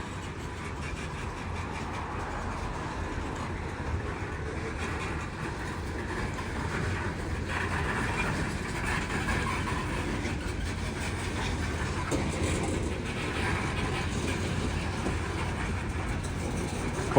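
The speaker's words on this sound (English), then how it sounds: "There's some heavy weight on this train." A heavily loaded coal train rolls steadily past in Kenova, West Virginia, a continuous loud rumble and rattle of wagons on track lasting the whole time, with no voices.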